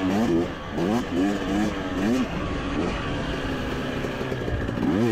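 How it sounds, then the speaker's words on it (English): A 2023 Husqvarna TC250 two-stroke TBI dirt bike rides on a high desert motocross track, its engine revving up and down in rapid rising and falling surges, loud and close throughout. "Riding Brad's 23 Husky 250 two-stroke TBI."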